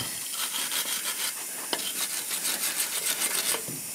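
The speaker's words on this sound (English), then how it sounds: "we want to clean all the dirt and mud off of our U-bolt threads. We'll do that with a wire brush." A wire brush scrubs dirt and mud off the U-bolt threads during a broken leaf spring repair, giving close, raspy scratching strokes in a steady repeating rhythm, with no speech.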